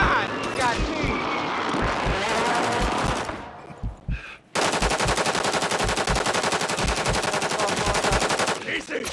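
Rapid automatic gunfire in a video game, dense bursts of rattling shots that run nearly nonstop and stop briefly in the middle, loud and close, with a player's voice talking over it.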